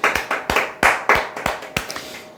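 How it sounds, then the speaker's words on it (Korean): A small group claps in a Korean talk-show style lecture, about eight separate bursts of hand clapping. The bursts come in an uneven rhythm and fade out by the end. "박수 한번."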